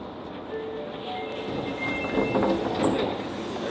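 Train running on rails during a commuter transfer, a steady rumbling roll with faint clatter and a brief high squeal, moderately close and continuous with no talk.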